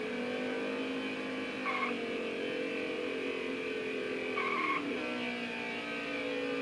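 A race car lapping an inside road course, its engine droning steadily with shifting pitch and two brief high squeals, heard from inside the car at moderate level.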